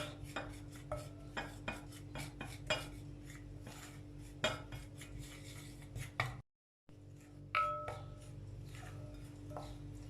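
Sugar and orange zest get stirred in a bowl, with repeated close clinks and scrapes of a spoon against the bowl in an irregular rhythm, briefly cut off by a short gap.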